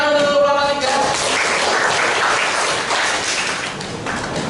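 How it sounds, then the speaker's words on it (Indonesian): A classroom group of high school students gives applause, a brisk burst of many hands clapping that fills several seconds after a voice trails off at the start. "Beri tepuk tangan untuk kelompok 3."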